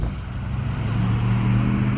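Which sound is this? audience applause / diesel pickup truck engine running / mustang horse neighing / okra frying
diesel pickup truck engine running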